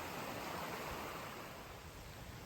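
A stream at a trail crossing in Shawnee State Park, Ohio, rushes in a constant broadband roar, close and steady throughout the short stretch, with nothing else audible.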